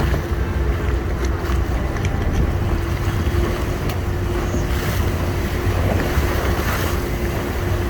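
A ferry boat in Lagos motors steadily across water, a constant low engine drone mixed with splashing and wind buffeting the microphone.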